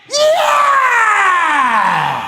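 A loud, drawn-out scream imitating a famous rock song's yell, sung by a voice rather than the original recording, sweeping downward in pitch over two seconds with heavy reverb trailing off.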